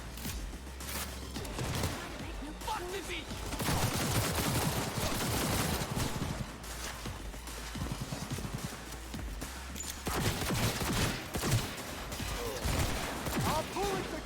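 Sniper fire in Cyberpunk 2077 cracks out in sharp, repeated shots amid steady gunfire and clatter, loud and close, with a voice speaking briefly between volleys.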